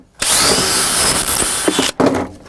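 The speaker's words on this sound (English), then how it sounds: "I'm gonna pre-drill these holes now so it doesn't split again on" A power drill pre-drills holes in wood while new stairwell lighting goes in, a loud sustained whirring run lasting nearly two seconds, a brief stop, then a short second burst, up close and with no talking.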